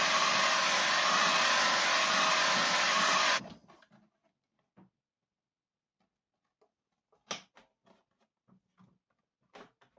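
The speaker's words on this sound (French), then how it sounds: "je chauffe, et là je tiens avec ma main, tout en chauffant en même temps, et je plie le plastique gentiment." Heat gun blowing hot air onto plastic to bend it during work on a Booster One scooter, a loud steady roar for about three seconds that cuts off, followed by quiet handling clicks and taps.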